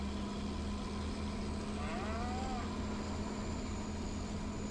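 A cow moos once in a ranch simulation game on a cattle farm, a short low call rising and falling over a constant engine-like drone and steady hum, with no voices.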